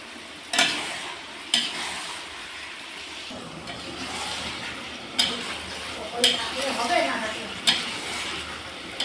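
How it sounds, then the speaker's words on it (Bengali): Soybean chunks sautéed in a pan, a continuous sizzle broken by several sharp scraping stirs of a spatula against the pan, close and fairly loud, with no talking. "সয়াবিনটা দিয়ে কষাবো"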